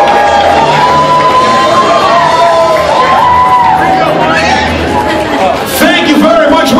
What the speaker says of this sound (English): What you're watching right now is an amazing crowd as they get ready for our final finale show.